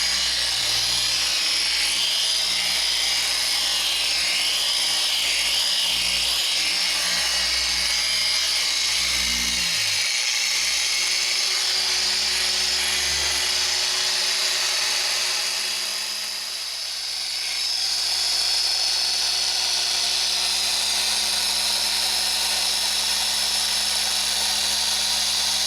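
A polisher fitted with a 3-inch Griot's Garage cutting pad spreads Chemie heavy cut compound over a Honda Pilot headlight, a loud, steady high-pitched whine that drops briefly in pitch and load before spinning back up.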